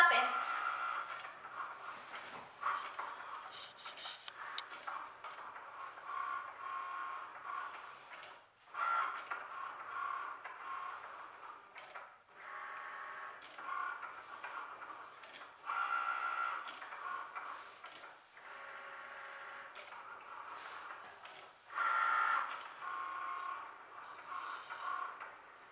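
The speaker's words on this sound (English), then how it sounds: "now the Cricut is gonna go and draw all this thing" A Cricut Maker cutting machine draws a design, a quiet mechanical whirring and ticking that stops and restarts in bursts as the carriage moves, close by, with a voice talking at times.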